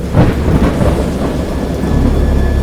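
Thunderstorm in the video game Dagon, with deep rolling thunder rumbling loudly over steady heavy rain, close and continuous with no voices.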